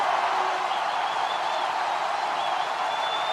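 Football stadium crowd at a South Carolina versus UAB college game in 2012, a dense, steady roar of cheering fans filling the whole stretch, loud and continuous, with no voices standing out.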